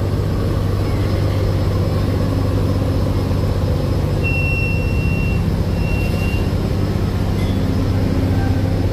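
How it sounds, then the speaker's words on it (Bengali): A passenger launch docks at Sadarghat in Dhaka on the river trip from Bhandaria, with a loud, steady low engine drone and faint tonal whines over it. "তারশিবদিনের পাশ দিয়ে আর কি পার্কিং করতেছে সদরঘাটে"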